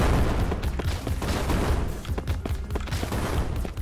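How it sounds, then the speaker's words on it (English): Explosions and gunfire in the video game Crystal Defense, a dense, continuous barrage of loud booms and rapid shots with no break, heard alone without talk. "Why is there still explosions?"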